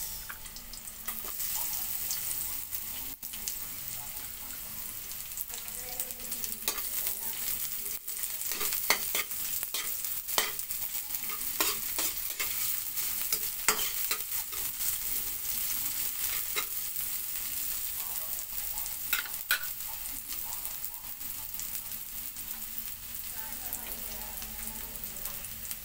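Onions sautéing in a pan while cooking corned beef with cabbage, a steady close sizzle with occasional stirring scrapes running throughout, no talking.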